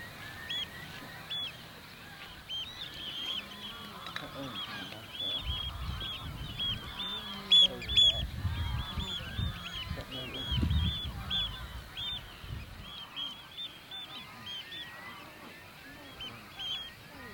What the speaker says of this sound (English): More and more waves of birds were flying our way, particularly oyster catchers.